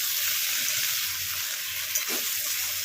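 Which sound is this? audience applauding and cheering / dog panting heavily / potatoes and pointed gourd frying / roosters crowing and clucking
potatoes and pointed gourd frying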